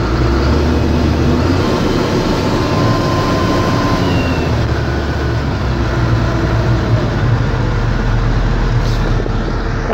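Case IH MX 210 Magnum tractor driving, a loud steady engine drone with a constant low rumble and rattling cab noise throughout, no talk.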